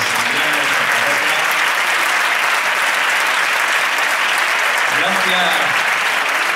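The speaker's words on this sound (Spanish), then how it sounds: "Pues fuerte el aplauso para este grupo de Sevillanos de Zaragoza" Dense, loud applause from a festival audience for a sevillanas dance group from Zaragoza, a steady wall of clapping throughout with a few voices calling out underneath.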